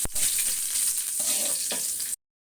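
Finely chopped ginger is stir-fried in a pan, producing a bright steady sizzle with soft stirring scrapes that stops abruptly after about two seconds.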